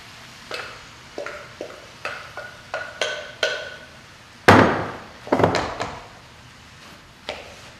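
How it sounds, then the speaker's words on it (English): A series of sharp wooden knocks precedes a loud, crunchy rush as cabbage is tossed into a pan with green onions, followed by a few shorter rustling clatters and one last knock. "I'm going to toss in the cabbage"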